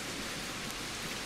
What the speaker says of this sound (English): the drizzle turns into a torrent and a downpour